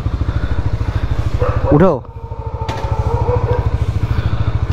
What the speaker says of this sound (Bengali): তুমি তোমার স্কুটিটা চালাও